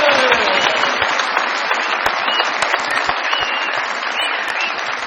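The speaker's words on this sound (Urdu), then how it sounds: "بہت ساری تالیوں میں ویلکم کیجیے" A studio audience on a comedy game show claps loudly to welcome a prize contestant, a full, sustained burst of applause with scattered cheers that holds steady throughout.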